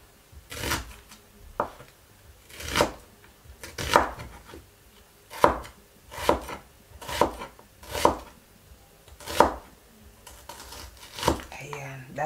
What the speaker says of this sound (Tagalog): Hiwa tayo ng onion.